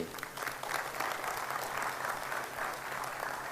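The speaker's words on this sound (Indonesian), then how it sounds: "Tepuk tangan untuk Ibu IVC." Crowd applause at a leadership training meeting, steady rapid clapping from many hands, moderately distant and even throughout a short burst.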